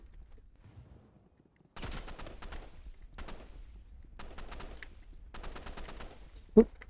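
Rapid bursts of gunfire in the Roblox game Rivals come in four or five separate volleys with short silences between them, followed by one sharp louder shot near the end.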